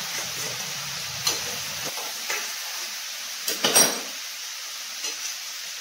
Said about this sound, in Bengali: এবারে মিশিয়ে আলু, মাছের মাথা, মশলা সব মিশিয়ে গরম জলটা দিয়ে দেবো